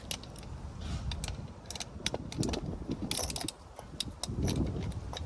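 A ratchet tightens suspension bolts on a 1997 Rover 600 upper control arm, giving a quiet, rapid run of metallic clicks that repeat in short strokes close by.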